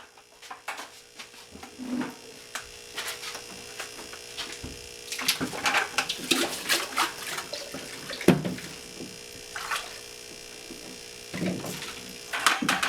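Water flowing through a DIY bio filter for an IBC tote tilapia tank, a steady trickle with a pump hum underneath, broken by irregular splashy bursts and clatters close by.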